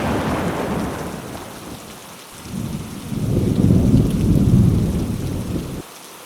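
Heavy rain pours steadily in a Malayalam film scene while deep thunder rumbles and swells through the middle, then cuts off abruptly near the end; no voices.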